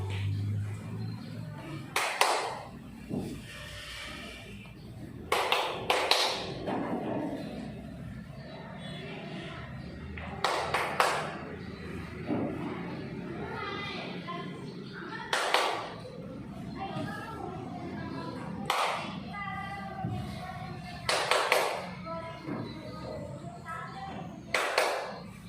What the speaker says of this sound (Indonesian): Berapa kali tepuk tanganku?